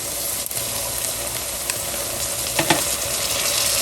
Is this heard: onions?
yes